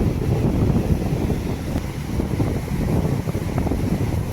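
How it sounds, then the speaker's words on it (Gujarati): Surging sea waves churn and crash while fishing boats head out, a loud, constant surf rumble mixed with gusting wind buffeting the microphone, with no voices. "જુઓ ફેમિલી કેવા મોજા ઉછળે છે અને આપણી બોટો નીકળતી જાય છે"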